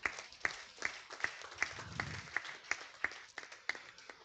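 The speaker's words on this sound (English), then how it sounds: "Great applause to them." Sparse clapping from a small academic audience at a conference on Korean shamanism and performance, with sharp, evenly spaced claps at moderate volume and a soft murmur underneath.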